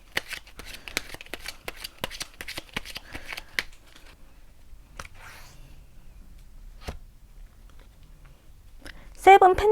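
Tarot cards are shuffled in a quick run of crisp, rapid riffling clicks up close, followed by sparse card taps and a short quiet stretch before a voice starts speaking at the end.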